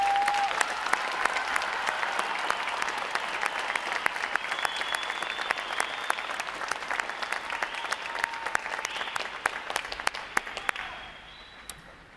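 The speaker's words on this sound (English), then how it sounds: "Please join me in giving them and eight other graduating divisions today a round of applause for" Audience applause fills a Navy recruit graduation ceremony at Recruit Training Command, a dense steady wash of many clapping hands that runs for about eleven seconds before fading out.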